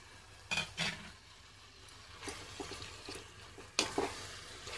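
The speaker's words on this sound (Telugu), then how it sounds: "ఇప్పుడు చేప వేసుకుందామండి." Fish pieces going into a pan for a village-style fish curry, a couple of close clattering drops and scrapes over a faint background sizzle, quiet overall with no talking.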